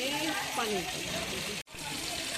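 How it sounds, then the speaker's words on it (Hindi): Water gushes and splashes steadily from a cow-mouth spout at the Maharishi Valmiki ashram in Chhattisgarh, a continuous rushing pour close by, with a voice speaking over it. "ये जगह गाय के मुंह से जल निकलते"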